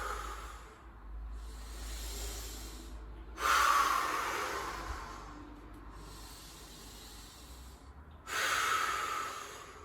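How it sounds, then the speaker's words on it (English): Slow, deep breaths during a strong exercise stance: two long airy inhalations or exhalations rise clearly above a quiet background, spaced several seconds apart, close to the microphone. "And take a few deep breaths."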